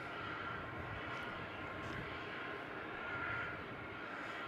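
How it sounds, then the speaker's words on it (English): A Boeing 737 Max 8 arriving at Melbourne Airport from Denpasar gives a steady, fairly distant jet engine roar that holds evenly for the whole stretch, with no voices over it. "This is the Max 8 in from Denpasar, velocity 92"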